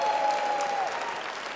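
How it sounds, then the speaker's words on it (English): An audience applauding the chef at a traditional haggis dinner, a dense burst of many hands clapping, loud and close, with a brief tonal whistle in the first half before the applause eases slightly. "A round of applause."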